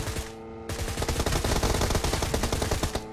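PUBG Mobile gunfire: a loud, sustained burst of rapid automatic shots rattling almost without pause over three seconds, with no voices.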